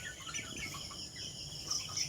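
Chickens on a farm cluck in short, overlapping bursts at close range, with a couple of sharper, higher calls near the end of the brief stretch.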